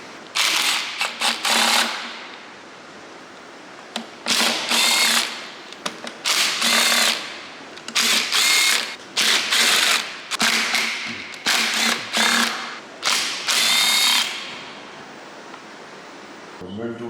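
An impact gun rattles bolts loose during an Audi S3 2.0 TFSI engine build in a workshop, firing in a dozen loud, close bursts of a second or so each, separated by short pauses.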